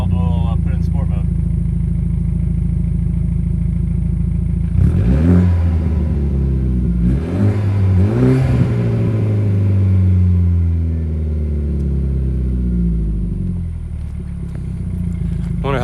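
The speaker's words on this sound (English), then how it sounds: "Sport mode opens up the exhaust valves and you can hear the intake a lot better, and throttle response is a little bit higher." A lowered, tuned BMW F30 in sport mode with its exhaust valves open rumbles at a deep idle, then gives two or three sharp revs that rise and fall before settling, loud and close.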